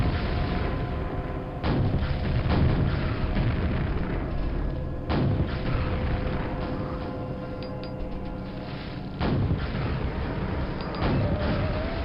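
Explosions boom in Quake, played in Quakespasm, as several heavy, sharp blasts spaced a few seconds apart over a constant rumbling game backdrop, loud and close.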